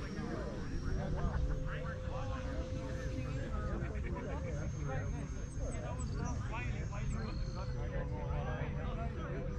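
Freewing Banshee 64mm EDF RC jet on 6s coming in to land, a steady whining ducted-fan hum with shifting pitch heard under continuous close talking.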